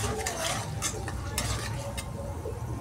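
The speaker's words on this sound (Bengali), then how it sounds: "তার জাস্ট একটু কষিয়ে নিচ্ছি আদা জিরে বাটাটাকে।" Ginger and cumin paste fries in a pan with green chillies for a fish curry, giving a steady close sizzle with occasional stirring scrapes.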